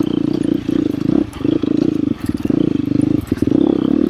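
A four-wheel ATV engine pulls in third gear on a pre-season trail ride at Mountain Ridge ATV Park, a loud, close, rough low drone that dips briefly a few times before surging again.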